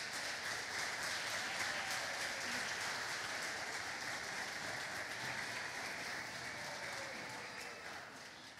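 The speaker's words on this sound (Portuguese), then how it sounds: "Tem uma salva de palmas para Jesus aí" A church congregation applauds for Jesus during a service, a dense, steady wash of clapping that holds throughout and tapers off slightly at the end.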